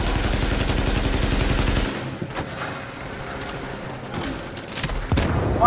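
Weapon fire in The Division during a fight against a grenade-launcher enemy: a loud roaring barrage of blasts and rapid shots for about two seconds, then scattered sharp reports and thuds, with a final heavier burst near the end.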